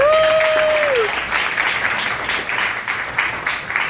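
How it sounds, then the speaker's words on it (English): A film festival audience applauding with dense, sustained clapping that gradually thins out, preceded by a brief tonal whistle at the start. "Let's give them another big round of applause."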